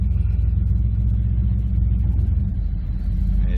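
A 1961 Chevrolet Bel Air V8 engine idling close by, a deep steady low rumble with a slight rhythmic lope, running alone without talk.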